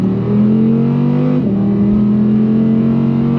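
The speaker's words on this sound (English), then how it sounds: "the V8 that we're testing today has that amazing exhaust" An Audi R8 V8 engine with factory exhaust idles with a deep, throaty burble, then briefly drops and settles back into a steady, loud rumble close by.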